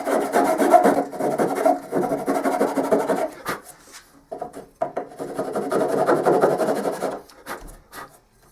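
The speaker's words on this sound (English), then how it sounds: "it's easy enough to just file away some of that other edge" A rasp files along the edge of wooden crown molding in two long bursts of steady scraping strokes, close and loud, with a short pause between them and no voices.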